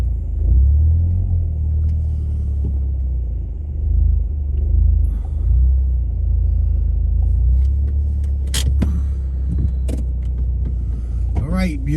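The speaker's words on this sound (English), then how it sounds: "I always like backing in my car." A car backs slowly into an employee parking space, a loud low engine rumble running throughout, with brief clicks and rattles near the end.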